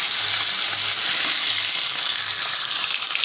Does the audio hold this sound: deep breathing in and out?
no